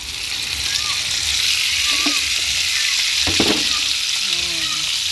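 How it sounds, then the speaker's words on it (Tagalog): Pork steak sautéing with garlic and onion in a pan, a loud, steady, close sizzle with brief stirring scrapes and a faint voice in the background. "Ngayon ay aking igigisa na ang pork steak."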